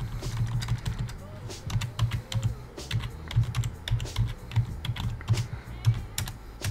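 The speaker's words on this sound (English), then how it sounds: "we're gonna type in Universal Blue" Steady, quiet clicking of a computer keyboard being typed on, with continuous irregular keystrokes running through the whole stretch and light background noise.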